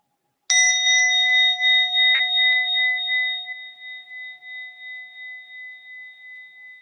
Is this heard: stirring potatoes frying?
no